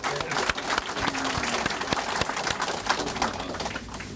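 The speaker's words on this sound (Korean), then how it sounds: "박수 한번 보내주십시오." Crowd applause at a candidate's election campaign office opening in Korea, a busy patter of many hands clapping throughout, with sharp individual claps standing out and chatter mixed in.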